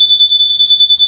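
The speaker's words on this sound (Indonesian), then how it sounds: "alarm akan berbunyi seperti itu ya" A Yamaha NMax scooter's keyless alarm sounds when it is switched off: a steady, piercing high-pitched electronic beep pulses in rapid repeated bursts for about a second, then cuts off abruptly with a brief rustle.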